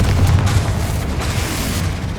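The Confringo fire spell in Hogwarts Legacy explodes in a loud, rumbling boom that roils on without pause for the whole moment.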